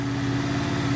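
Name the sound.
Honda VFR 800 motorcycle engine revving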